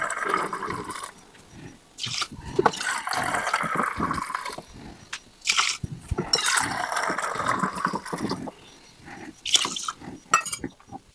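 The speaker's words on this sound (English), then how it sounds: "I'm going to add water to this thing." Water poured into a pot of rinsed white rice, about three cups for two cups of rice, splashing and trickling in bursts with short pauses between pours, close and moderately loud.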